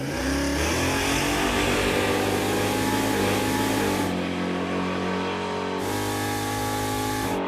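A Chevrolet Impala drag car roars off the starting line, its engine revving hard and loud, with a brief drop in pitch at a gear shift before pulling on strongly.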